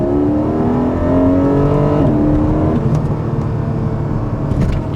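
A 2025 Porsche 718 Cayman GTS 4.0 with its mid-mounted flat-six emits a loud, continuous exhaust drone, the pitch rising and then settling as the engine revs, with whirring road noise beneath.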